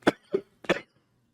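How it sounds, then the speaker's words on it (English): Three quick, dry coughs close to a microphone from a sick man, evenly spaced within a second and followed by quiet. "Sorry for coughing into the microphone."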